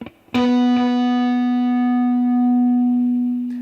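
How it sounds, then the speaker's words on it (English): A saucepan banjo played through high-gain distortion: a single plucked, sustained distorted twang rings out with dense harmonics and slowly fades away, loud and alone. "that's through a high gain distortion sound, so it's not actually very long lived at all"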